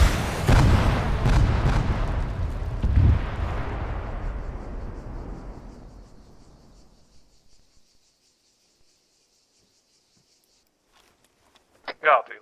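Explosions from video-game bombs boom in a dense cluster of heavy blasts that rumble and slowly fade over several seconds into near silence, followed by a brief sharp burst at the end.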